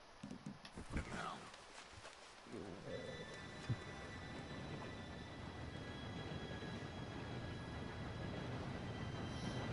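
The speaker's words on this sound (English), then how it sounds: "Train should be here any minute now." In Red Dead Redemption 2, a train approaches as a low rumble and clatter builds steadily from quiet to loud, with a faint bell-like tone ringing over it and a few footsteps and voices near the start.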